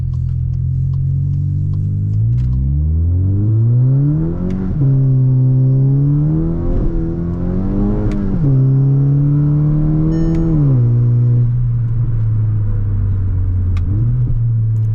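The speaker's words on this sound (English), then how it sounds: "the boost of this car starts almost after 3500 RPM" A Skoda Octavia vRS 245 turbo engine accelerates hard, its loud close-up note climbing through the revs, dropping at gear changes and climbing again, with no talk over it.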